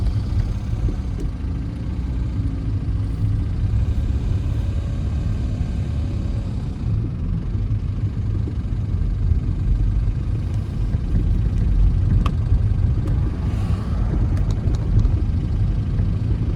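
An old Kia car engine runs while driving, a steady low rumble heard from inside the cabin that holds up for the whole stretch, with no talking over it.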